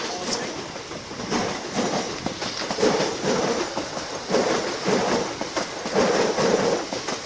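Train pulling away from Shepreth junction on the line toward Royston, a close steady rumble with rhythmic clickety-clack of wheels over rail joints, while someone speaks faintly over it.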